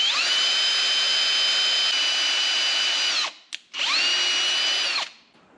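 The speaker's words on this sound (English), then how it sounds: "just drive a tap into that cup and see if that'll grip enough" A power tool drives a thread tap into a brake piston cup on a diesel mini truck, whining steadily for about three seconds, stopping briefly, then running again in a second shorter burst before winding down.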